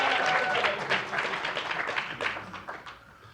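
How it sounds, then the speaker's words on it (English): Audience applause at a Black History Month talk in the Charles H. Wright Museum, a brief burst of clapping that starts full and thins out, with faint voices mixed in. "give a round of applause for Mr."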